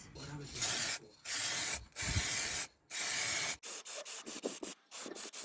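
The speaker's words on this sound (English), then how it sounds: "that is the lacquer done, and as always we put on a sort of dusting coat and then a couple of much thicker coats" Aerosol lacquer sprayed onto alloy wheel centre caps in several loud hissing bursts, longer at first and then a run of shorter quick sprays, close by with no talking.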